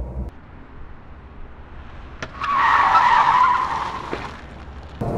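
Tires of a Wuling Mini EV, a small electric city car, screech in a skid during an attempted drift: a sustained squeal swells up for about two seconds, then fades, over a steady background hum.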